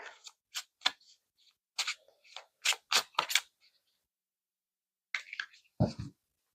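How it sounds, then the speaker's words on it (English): Tarot cards are shuffled by hand at close range, producing short, crisp riffling and slapping bursts in irregular clusters separated by silent pauses. "I'm going to shuffle in the upright."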